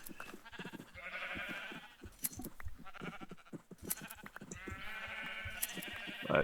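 Sheep bleat repeatedly in a video game farm setting, several drawn-out calls in a row over a busy backdrop of clicks and soft game sounds, fairly loud and continuous.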